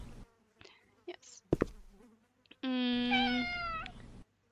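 Cat meowing in a video game, a clear harmonic meow rising then sliding down, preceded by a few short clicks and faint sounds, heard alone without talk.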